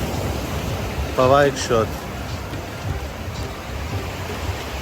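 Ocean waves washing steadily onto a beach in a resort town in India, a continuous broad roar of surf with a brief spoken word partway through.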